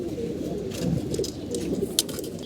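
A racing pigeon paired for the race season coos softly a few times against a low background murmur, with a brief sharper chirp near the end.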